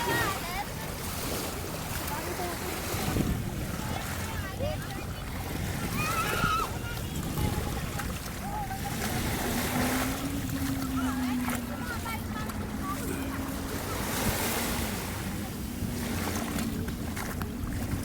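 Steady rush of sea waves and wind around a boat, with a low engine-like rumble and faint voices underneath.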